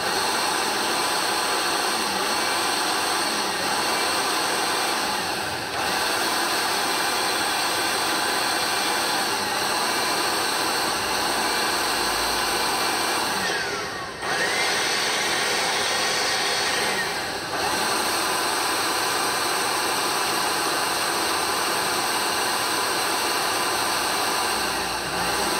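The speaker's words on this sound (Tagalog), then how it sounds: "Yung blower na rin natin." An air blower drying a QJ Motor ATR 160 motorcycle after an oil change gives a steady, loud broadband whoosh held for the whole stretch, with brief dips where the airflow pauses.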